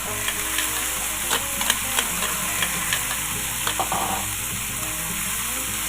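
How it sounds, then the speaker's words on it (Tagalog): Shrimp paste (alamang) hitting frying meat in a pan, a steady close sizzle with scattered clinks and stirring scrapes, no speech. "So ilagay natin yung alamang."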